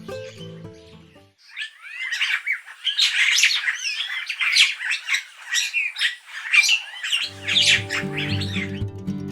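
A noisy, gregarious purple starling-like bird chirps and squawks in rapid, busy bursts, calls tumbling over one another for several seconds, framed by brief passages of background music.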